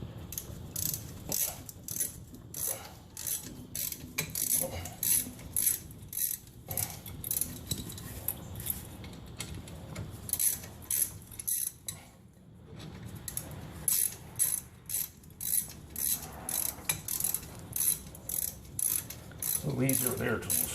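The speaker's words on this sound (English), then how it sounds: "Now I'm taking off the screws that are holding on this caliper." A ratchet loosening the brake caliper screws on a 2004 Honda Civic, rapid clicking pawl bursts repeating in quick rhythmic runs with brief pauses, close and clear, with no talking.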